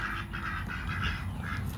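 Duck quacking during a bird treat feeding, repeated nasal quacks in a quick irregular series over a low background rumble, close by with no talk.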